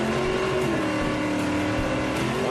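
A vintage racing car engine roars loudly and close, holding a steady rumbling drone with slight pitch dips as the revs shift, with no voices over it.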